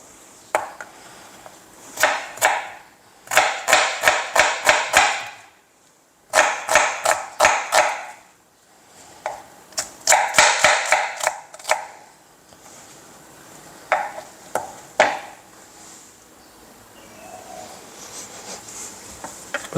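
A knife slices onions on a cutting board in quick rhythmic runs of sharp chops, grouped in bursts with short pauses between, loud and close, without talk.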